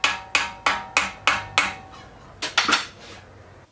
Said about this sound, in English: So I'm gonna rivet it in.